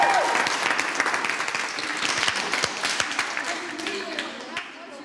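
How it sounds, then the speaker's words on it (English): A group of dressmaking trainees and others applauding themselves, lively clapping with clear individual hand strikes that stays strong at first and gradually thins over about five seconds, with voices chattering underneath. "I think you all should give yourself a big round of applause"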